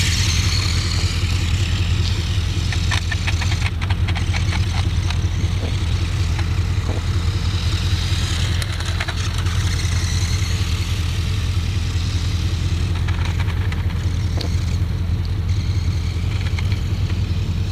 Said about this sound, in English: when you rev it enough, it actually sounds like a motorcycle idling